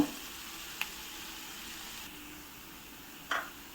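Onions frying in a pan, browning for a fenugreek gojju, a soft continuous sizzle with two brief utensil clicks, quiet and close.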